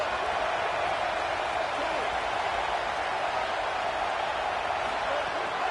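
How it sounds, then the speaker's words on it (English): A stadium crowd roars without a break in the video game NCAA 27, a steady, loud wash of massed voices with no pause or distinct talk. "The roar of the crowd trying to fuel this defense to keep them pinned in their own end."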